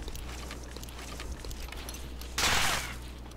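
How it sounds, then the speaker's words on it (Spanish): A single burst of gunfire-like noise from the video game Arma 3 cuts sharply through a steady low hum and background hiss, short and punchy, with no talking. "¿Dispara? ¿Escuchan mi disparo?"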